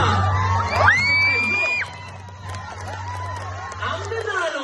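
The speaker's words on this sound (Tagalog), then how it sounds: "Umayaw na at pumalakpak." At a Zumba dance competition the crowd whoops, yells and cheers as the champion is announced, with loud shouts rising over busy chatter, a whistle-like squeal cutting through, and people talking amid the noise.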